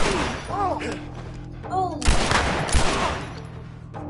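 Gunfire in the video game The Last of Us comes as several sharp, loud bursts and thuds over the game's ambience, while a person lets out short excited exclamations.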